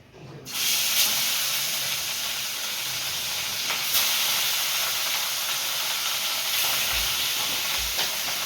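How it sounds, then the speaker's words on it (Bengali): Katla fish hits hot oil with a sudden loud hiss that settles into a steady, dense sizzle and spatter, with occasional louder pops and faint clinks of a utensil. "তেল গরম হয়ে গেছে, মাছ দিয়ে দেবো।"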